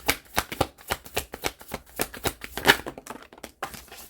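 Tarot cards are shuffled by hand, close by, in a quick run of crisp riffling bursts and soft slaps that continue for several seconds with short pauses.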